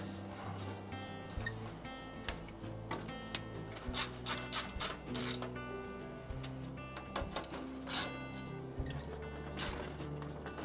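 A greenhouse partition panel is slid and fitted back into place, making faint rubbing, scraping and sharp little clicks and knocks that come irregularly over a low steady background.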